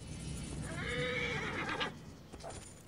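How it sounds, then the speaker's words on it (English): A horse in Assassin's Creed Origins whinnies loudly, then its hooves clip-clop nearby as the neigh fades, with game ambience underneath. "I'm on a horse."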